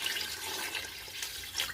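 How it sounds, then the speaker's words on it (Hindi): Water gushes steadily into a cooking pot, about 1.5 litres measured for a kilo of rice in chicken pulao, a close, continuous splashing pour lasting under two seconds. "पानी इसमें मैं डाल दूंगा।"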